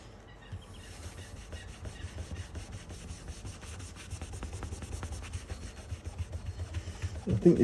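A cloth rubs vigorously over the runout of an LP vinyl record to clean grey fog, a steady rapid scrubbing rhythm that grows louder and more forceful toward the end, close to the microphone.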